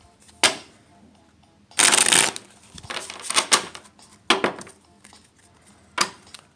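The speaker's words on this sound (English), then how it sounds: "I'm gonna shuffle it one more time." Tarot cards are shuffled with crisp riffling bursts and flicks, several separate rounds close up, with a voice speaking quietly between them.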